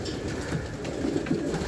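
Soft pigeon cooing in low, rolling phrases over steady outdoor background noise.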